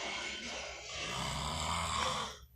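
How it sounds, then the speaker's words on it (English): A sleeping man, an uncle, snores hard with a rough, rattling drone that swells and sags over a couple of seconds before cutting off, heard up close with no talking. "He's snoring."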